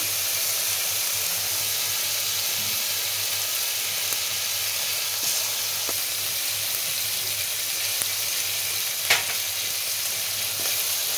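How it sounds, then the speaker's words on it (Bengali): Cumin and coriander paste frying in hot oil for a Bengali doi katla fish curry, a steady close sizzle and hiss running throughout with a few faint clicks of stirring. "মশলাটা ভাজবো।"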